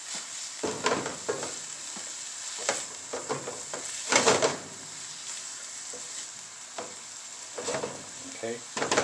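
Onions and peppers sautéing in a pan for stewed cod, with steady close sizzling and frequent spoon stirring scrapes in irregular bursts.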